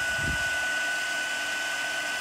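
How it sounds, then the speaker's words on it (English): A heat gun blows steadily to emboss gold powder on a Stampin' Up! snowflake card, a constant close whooshing hum with a faint thump near the start. "I heat emboss from behind"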